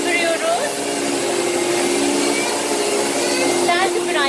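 A Bosch toy electric vacuum cleaner runs close by with a steady, whiny motor hum, while voices talk over it near the end.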